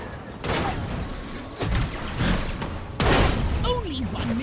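Bursts of gunfire and explosive blasts from the alien shooter game Destroy All Humans, loud and close, in several sharp onsets with debris and mechanical rumble between; voices talk over the action.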